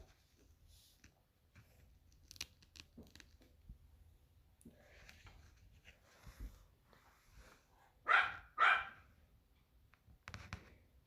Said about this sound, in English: If you hear barking in the background, that is just my dogs.